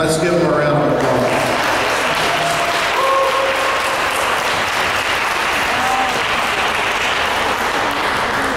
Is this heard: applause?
yes